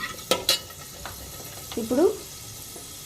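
Fenugreek seeds fry in hot oil and get stirred in a pan, with soft sizzling, a few scraping stirs and a short clatter near the end, and a voice speaks briefly at the start.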